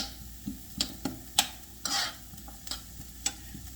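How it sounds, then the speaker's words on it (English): Vegetables for a seafood gumbo sauté in a pot, with a soft background sizzle and a series of distinct spoon scrapes and clinks at irregular intervals. "Just saute those vegetables that's in there."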